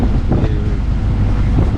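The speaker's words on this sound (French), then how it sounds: "on vient de se prendre un coup de vent, le vent descend là, il arrive sur le bateau" A steady roar of wind buffets the microphone as a gust hits a sailboat at sea, with rushing water and a low engine-like rumble underneath, loud and continuous.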